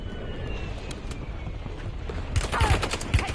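Gunfire in Call of Duty Resurgence, a noisy battle bed that breaks into a burst of rapid, loud shots near the end, with faint aircraft-like drone underneath.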